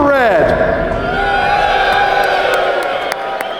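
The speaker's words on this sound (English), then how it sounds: "Let's hear a cheer for red." Live audience at a Get in the Ring event in the Netherlands cheering and whooping loudly for the red side, a close crowd roar that swells at the start and then holds steady before tapering slightly.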